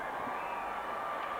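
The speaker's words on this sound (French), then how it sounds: "Oui, il mérite bien les encouragements, les acclamations, l'ovation." A tennis stadium crowd cheers and applauds Hewitt in a steady, continuous roar at moderate loudness, with no breaks across the moment.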